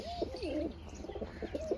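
Pigeons coo softly nearby, a few rolling, throaty calls repeating in quick succession against faint background noise.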